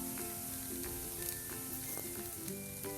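Ripe banana roasts in a pan with grated coconut and sugar, giving a constant close sizzle and hiss. Occasional light stirring clicks sound over the frying, and a faint tonal hum runs underneath.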